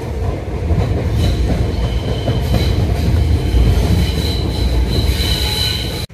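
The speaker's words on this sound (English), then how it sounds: "Check out the train, guys." An old communist-era train in Riga rumbles loudly and steadily on the rails, with clattering wheels and faint squealing tones, close and continuous until an abrupt cut near the end.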